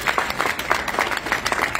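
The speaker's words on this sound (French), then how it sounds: "M. Vandama, qu'on peut applaudir très très fort" Audience applause at a gathering in Paris honouring the ambassador of Côte d'Ivoire, a dense, steady wash of many hands clapping close and fairly loud throughout, without talk.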